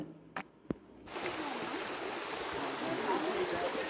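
A mountain stream rushing across a trail river crossing on the Kudremukh trek, a steady close watery hiss that swells in after a couple of sharp clicks and keeps going.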